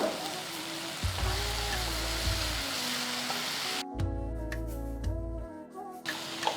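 Coriander and curry leaves fry in a pan for Telugu-style pulagam palli pachadi, giving a continuous close sizzle and crackle. Intermittent low thumps and stirring noises come through beneath it.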